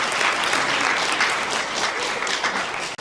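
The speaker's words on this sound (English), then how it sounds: "Give yourself an applause." Audience applause at a community cancer awareness talk, dense and sustained clapping from a crowd that holds steady for three seconds before cutting off abruptly.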